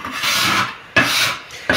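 Rough scraping of soft egg pasta dough residue off a work surface, three raspy strokes, the first one long and the following two shorter and close together, heard close up and with no other sounds.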